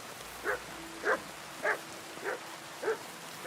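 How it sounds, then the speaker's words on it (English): Max the dog in Kingdom Come Deliverance 2 barks five times at a steady, even pace, each bark short and moderately loud against a quiet background. "Good dog, Max."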